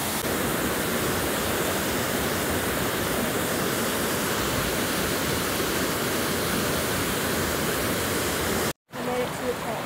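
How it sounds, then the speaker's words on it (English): A powerful waterfall roars in a constant, dense rush of white noise, loud and close, cutting off abruptly near the end. "It's a waterfall."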